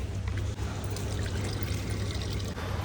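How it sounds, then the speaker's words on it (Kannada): Water poured from a bottle into a car's windshield wiper reservoir, a steady close trickle and splash running without a break beneath a low background hum. "ಈಗ ಅದಕ್ಕೆ ನೀರು ಹಾಕೋಣ."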